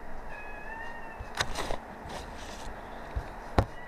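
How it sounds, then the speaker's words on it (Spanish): A cat meows faintly in a room during an online lecture on automatic control, with a few short, thin cries and some scraping and handling noises against a low background hum. "¿Escuchan el gato ustedes?"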